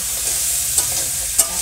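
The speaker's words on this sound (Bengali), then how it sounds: "কাঁকড়া ভাজা," Crab sizzling in hot oil in a village kitchen, a loud continuous frying hiss with two sharp spatters or utensil clicks in the short burst.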